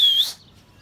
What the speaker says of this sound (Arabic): طيور